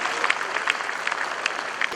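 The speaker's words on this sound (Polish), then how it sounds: "Brawa dla kolejnego czempiona" Applause from the crowd at a Polish cattle breeding show as a champion heifer is honoured in the ring, brisk close clapping with sharp individual claps over a steady crowd wash.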